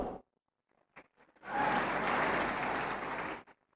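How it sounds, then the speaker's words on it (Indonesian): After a near-silent pause with a few small knocks, a lecture audience breaks into about two seconds of even clapping that stops abruptly. The lecture is on minority politics in Islamic constitutional law. "Tepuk tangan dong"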